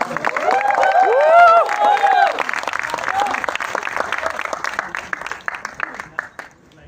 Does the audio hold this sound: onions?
no